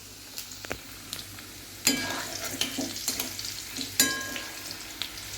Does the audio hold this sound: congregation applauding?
no